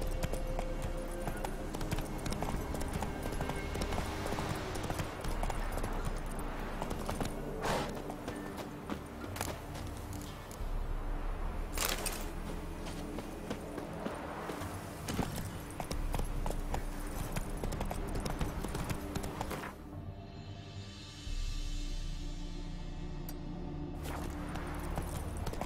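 Hooves clip-clop steadily as a horse is ridden in The Witcher 3: Wild Hunt, a continuous rhythmic trot under a constant game ambience, with a brief dip and some rustling partway through.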